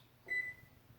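A kitchen timer gives a single short electronic beep, clear but fairly quiet, in an otherwise quiet kitchen.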